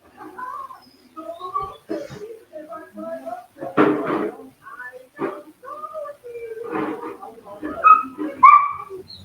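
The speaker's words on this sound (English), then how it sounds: "I listen to your puppy in the background. I know he's mouthy today." A mouthy puppy shut in its crate, giving short yips, whimpers and whines in irregular bursts, fairly close, while a person talks in between.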